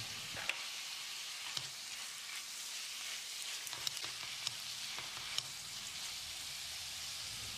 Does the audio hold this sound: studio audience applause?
no